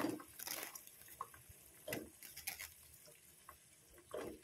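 Green beans tipped into a pot of simmering water while cooking for grilled beef ribs, giving scattered soft splashes, drips and light pattering, faint and close, with no voices.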